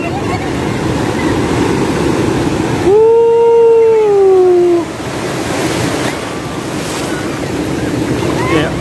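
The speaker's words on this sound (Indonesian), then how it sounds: "Ombaknya rada gede nih, men." Ocean waves wash onto a beach in a continuous broad roar with wind noise, while a voice speaks over it midway.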